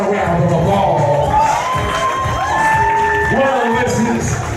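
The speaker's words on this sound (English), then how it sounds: "Come on, let's give her a round of applause." Audience at a fashion and award show cheers and applauds for a model on the runway. Crowd noise with whoops, shouting and scattered claps carries steadily throughout, with music or tonal sounds layered on top.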